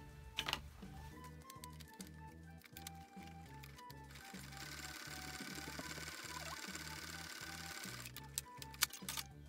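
A sewing machine stitches a cloth face mask 5 mm from the lower edge, running in short even pulses with a steady mechanical rhythm and brief pauses, fairly quiet and with no voice.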